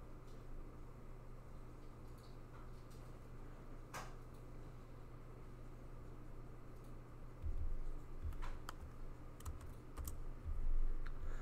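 Fingers typing code on a computer keyboard, a quiet stream of soft clicks with a few sharper key taps and some louder bumps near the end, set against a low room hum.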